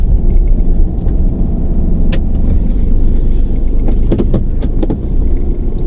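A car pulls into a parking area at Bagh-e-Jinnah, its engine giving a steady, close, low rumble for several seconds, with a few sharp clicks and knocks near the end.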